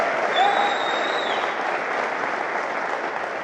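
Audience applause at a DEFCON 19 hacker conference talk, a broad steady wash of many hands clapping in a large hall, sustained for several seconds, with a brief whistle near the start.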